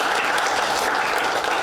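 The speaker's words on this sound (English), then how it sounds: "let's give her a big round of applause, everybody. Give her a big hand." A magic show audience gives a volunteer a big hand, a short burst of full, close applause from many people clapping steadily throughout.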